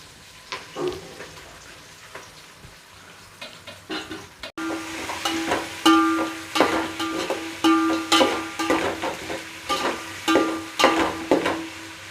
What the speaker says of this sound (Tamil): அதில் வெங்காயத்தை போட்டு இப்போ வதக்கிட்டு இருக்கேன்